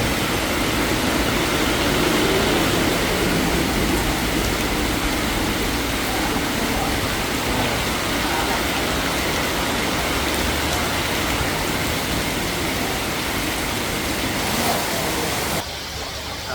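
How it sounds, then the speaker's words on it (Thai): Heavy rain pours steadily in Kanchanaburi, a dense unbroken hiss of downpour close by for the whole stretch, with the roar dropping slightly at the very end. "ฝนตก ที่เมืองการ นะครับ"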